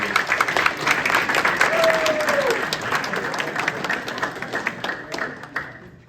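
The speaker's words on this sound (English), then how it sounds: "So give them a round of applause" Banquet audience applause for seniors at a high school basketball team event, loud and dense at first, then gradually thinning and fading out, with a faint voice briefly audible within the clapping.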